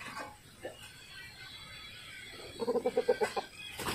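A rooster clucks nearby in a quick run of short, rhythmic notes, with quiet background noise before it.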